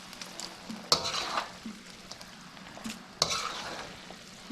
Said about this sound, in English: You try to mix up everything as much as you can.